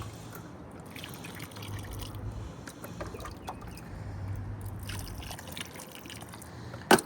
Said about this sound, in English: I'm going to keep watering it.